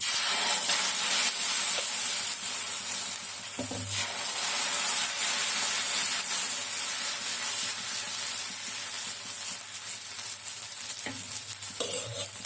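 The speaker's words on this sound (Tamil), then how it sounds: "இப்போ அம்மா தோசை ஊற்ற போகிறேன்" Fermented black kavuni rice dosa batter sizzles on a hot pan, with a loud, continuous frying hiss and spatter up close and a few brief scraping or clinking touches along the way.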